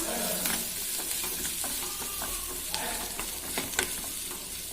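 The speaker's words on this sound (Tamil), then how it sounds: "இப்போ எல்லாத்தையும் நல்லா மிக்ஸ் பண்ணிக்கலாம்." Chickpea sundal is stirred in a pan, giving repeated scraping and clinking of a spoon over a faint, soft sizzle, fairly quiet and close, with no talking.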